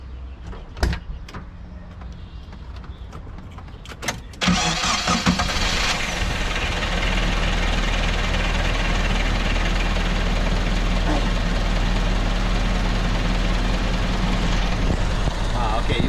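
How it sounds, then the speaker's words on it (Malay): A 2000 Nissan Vanette C22 van with a 1.5 litre engine is handled with a few clicks and knocks, then the engine cranks and catches around four seconds in and settles into a steady, close idle rumble. "Saya pergi start engine dia"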